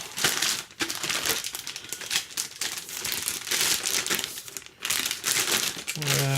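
Loud, continuous crinkling and crumpling of the plastic packaging of a Mackie Big Knob Studio being pulled open up close, with a brief pause, then a short voice at the end.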